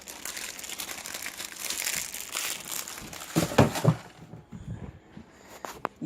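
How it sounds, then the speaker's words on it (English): An instant ramen seasoning packet is pulled from the noodle package beside a bowl, giving close, busy plastic crinkling and rustling that peaks in a few sharper crunches before easing into quieter handling. "You take this packet out and leave it to the side."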